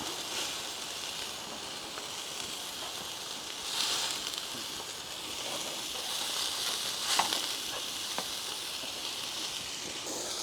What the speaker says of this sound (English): And apparently, you dump a load of onions on the top of that.